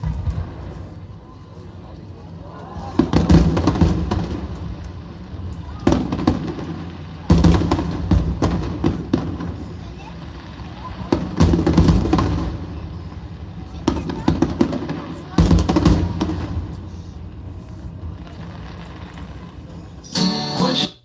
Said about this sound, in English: those fireworks again going into it.